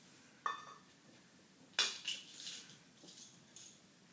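A drinking cup and a wooden spoon being handled, giving a few separate clinks and knocks spaced out over a few seconds, fairly quiet and close, with no one talking.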